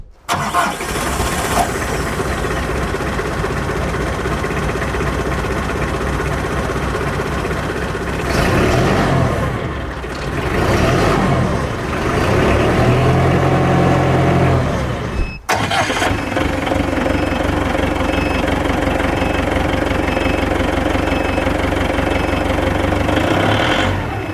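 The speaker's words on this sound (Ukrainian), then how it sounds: "Як бачимо, двигун собі ще трохи тихіше себе поводить на холостому ході." A Xinchai C490BPG forklift diesel engine starts and idles close by, a loud steady mechanical drone with a few revving swells midway, a brief cut, then a settled even idle.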